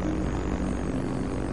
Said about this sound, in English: The V-1 gets nicknamed the Buzz Bomb for the loud noise its jet engine creates.